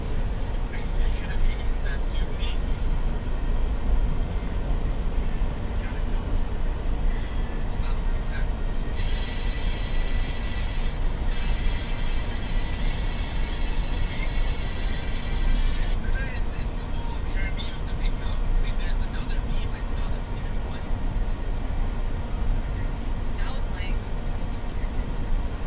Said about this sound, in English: This one's a pretty long train.